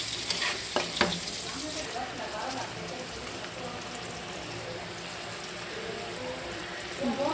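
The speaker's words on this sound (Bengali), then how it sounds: "রুই মাছ ভালো করে ভেজে নিচ্ছি" Rohu fish sizzling in hot oil in a pan, a steady close crackle and hiss throughout with a few sharp utensil clicks near the start.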